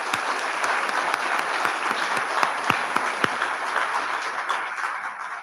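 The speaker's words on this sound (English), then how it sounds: "Let's give her another round of applause." Audience at a spring symposium gives another round of applause, a steady, even wash of many hands clapping with a few crisp nearby claps standing out, continuing throughout.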